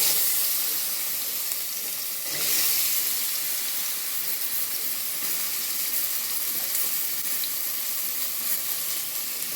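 Elephant foot yam frying in a little coconut oil for an Onam kootukari, giving a steady close sizzle and hiss throughout with a brief louder burst of crackle.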